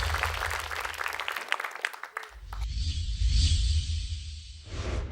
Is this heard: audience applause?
yes